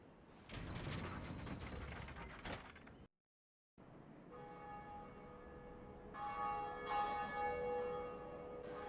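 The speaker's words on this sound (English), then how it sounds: "You come up here, you ring the bell" Belltower bell rung in Dark Souls: a burst of clanking mechanism and heavy strikes, a brief silence, then resonant bell tones ringing out and sustaining with rising layers of clear harmonics.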